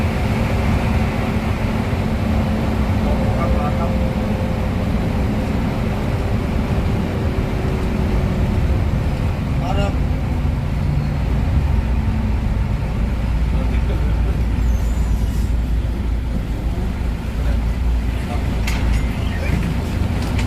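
Bus slowing and pulling onto the shoulder of the Jakarta-Cikampek toll road near Cibitung, a Hino-chassis intercity coach with steady low engine and road rumble throughout, traffic passing nearby.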